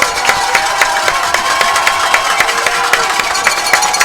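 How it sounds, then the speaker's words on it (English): A stadium crowd at a high school conference football championship cheers and roars steadily and loudly, with sharp claps and shouts repeating throughout over a dense, continuous wash of noise. "You hear the jubilation of the crowd."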